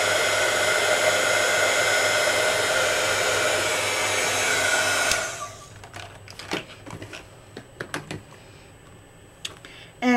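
Heat tool blowing steadily to melt embossing powder on a scrapbook page, a loud continuous whirring hiss that cuts off about halfway, followed by scattered light clicks and taps.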